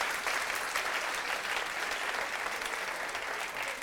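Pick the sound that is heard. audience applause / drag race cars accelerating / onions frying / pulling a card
audience applause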